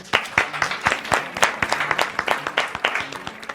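A university quiz show audience gives a round of applause between Egerton and Strathmore teams, a fairly close burst of distinct individual claps with a lively, uneven rhythm, loud and without talk.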